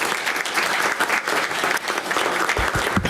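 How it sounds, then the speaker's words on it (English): Audience at a city commission meeting applauding an honoree, a dense, steady round of clapping from a small room crowd, fairly loud and sustained for a few seconds. "Let's give her a big round of applause."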